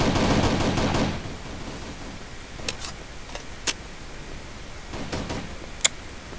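Gunfire in the video game Battle For Survival: a burst of rapid shots at first, then scattered single sharp cracks spaced a second or so apart against a quiet background.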